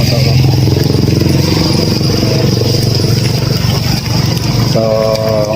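A roofless motorcycle's engine runs close and loud in the rain, a steady throbbing drone that barely changes throughout.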